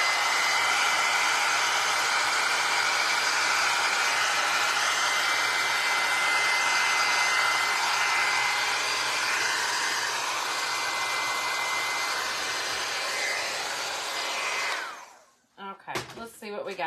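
A hair dryer blows steadily and loudly up close over a decoupaged tissue paper bunny tag, a continuous broadband rush that stops near the end, followed by a few faint handling sounds.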